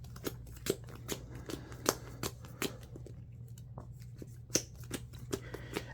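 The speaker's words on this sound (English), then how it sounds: "Let me do a quick pile shuffle here." Sleeved Yu-Gi-Oh cards being pile shuffled by hand, a steady series of crisp, close slaps as each card drops onto a pile, over a low constant hum.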